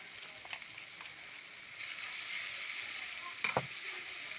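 Powdered spices frying with tomato in a pan for aloo karahi, a steady close sizzle with occasional scraping stirs and a couple of sharper clatters near the end.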